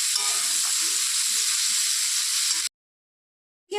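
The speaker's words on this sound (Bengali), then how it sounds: "তো পটলটাকে একটু ভালো করে ভেজে নেব আমি একটু লাল লাল করে ভাজতে হবে" Pointed gourd (potol) pieces frying in hot oil give a loud, steady sizzle and crackle for over two seconds, then cut to silence before a brief return.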